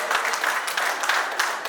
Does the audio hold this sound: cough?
no